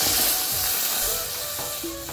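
Water hits a hot pan of fried mustard paste and dry chillies for a hilsa fish curry, giving a loud, continuous hissing sizzle that slowly settles.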